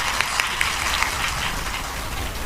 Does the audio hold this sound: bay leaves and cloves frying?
no